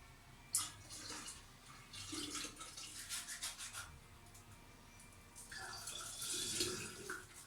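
Milk, 700 millilitres, is poured into a dissolved instant coffee mixture for homemade iced coffee, a faint, continuous liquid splash and gurgle that grows fuller toward the end.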